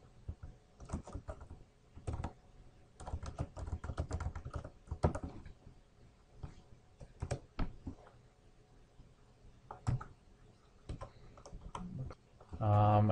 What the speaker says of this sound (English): So I type that into the router.